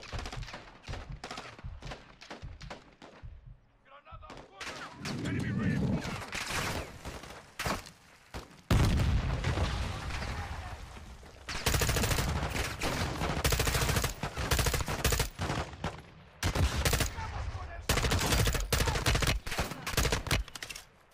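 Heavy gunfire in Call of Duty: Modern Warfare 2 campaign combat, dense bursts of rifle and machine-gun shots crackling near and loud with brief pauses, sustained volleys through most of the stretch.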